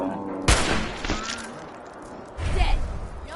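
Gunfire in a PS4 video game: a sharp burst of shots with a loud crack near the start, another hit shortly after, then a second rumbling volley toward the end, all over a busy game soundscape.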